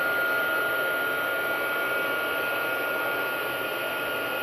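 A heat gun blows steadily on a card to melt embossing powder, giving a constant loud airy whir with an even hum that holds without change.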